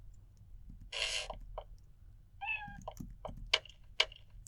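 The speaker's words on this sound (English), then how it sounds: "that cat meowing sound effect is far too cute, and sounds rather similar to my own cat" A cute cat meow sound effect from the video game Exile III plays as two clear, close meows, one longer, followed by a few light clicks and game blips, with no talking.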